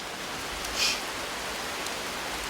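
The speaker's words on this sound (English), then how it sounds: "Very unusual to see rain around here." Rain falls steadily in a rainforest, an even wash of hiss from droplets on foliage, moderately loud and constant throughout with no voices.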